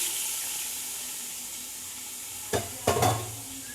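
Spice masala tipped into hot oil in a pan gives a continuous sizzling hiss, then bursts into a few louder crackling spurts as the spices hit the oil.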